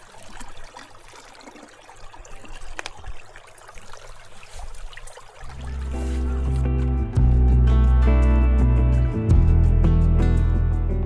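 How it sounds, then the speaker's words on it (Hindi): Water from a mountain tap or stream filling a drinking bottle at Tre Cime di Lavaredo in the Dolomites, an outdoor trickle that swells into a loud, rushing pour and filling gurgle, steady and close. "ये पानी की बोतल हम भर रहे हैं पीने के लिए और अपने वुजू करने के लिए"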